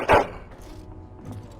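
A single loud dog bark from the Dragon Age: Origins Witch Hunt DLC, a short sharp burst at the start that fades into quiet game ambience.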